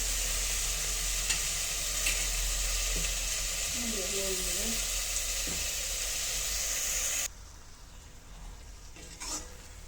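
Tomatoes sautéing in a pan give a steady, close, loud sizzle with a few light stirring clinks, then the sizzle abruptly drops to a quiet muffled hiss, as if covered with a lid.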